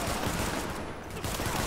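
Rapid gunfire in The Division video game, a dense continuous fusillade of shots filling the whole moment, loud and close.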